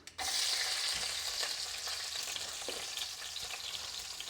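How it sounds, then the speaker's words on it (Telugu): Chillies drop into hot oil in a pan where country chicken is cooking, and a steady sizzle rises and carries on with faint stirring. "ఇగో మిరపకాయలు వేసేద్దాం."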